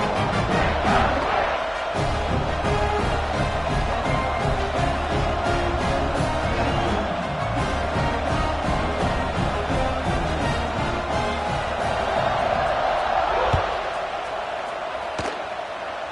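A large stadium crowd roars steadily through a college football kickoff in the NCAA 26 video game, a loud, continuous wash of cheering that eases slightly near the end.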